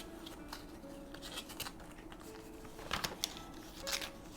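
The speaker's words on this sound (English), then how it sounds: "I'm just using my score tool to make a mark on the back and front" A score tool drawn across scrapbooking paper on the back and front to mark a fold, giving faint scratchy strokes followed by a couple of sharper scraping bursts near the end, close and quiet with no talk.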